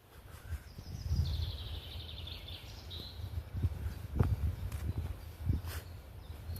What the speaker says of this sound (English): I can hear the birds, and I can hear the birds and the cars.